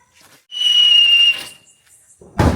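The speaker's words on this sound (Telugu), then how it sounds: "next whistle wheel" A Diwali whistle wheel firecracker gives one loud, sustained high-pitched whistle lasting about a second, fading out, followed by a short sharp burst of crackling noise near the end.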